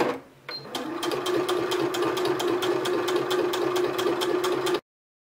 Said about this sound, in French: on va passer une petite couture sur le bord tout simplement